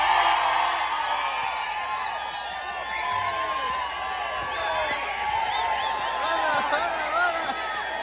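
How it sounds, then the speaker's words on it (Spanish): A crowd at a rural beer-drinking contest in Mexico cheers, whoops and claps for a contestant, a loud sustained roar with shouts rising above the clapping throughout. "¡Aplauso a mi tercer concursante!"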